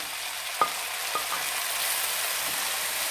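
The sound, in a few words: sautéing red and green peppers with onions and carrots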